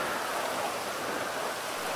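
Steady rain falls in the video game GTA V during a thunderstorm, a dense continuous hiss at moderate loudness with no other sounds standing out.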